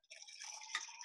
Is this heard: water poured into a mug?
yes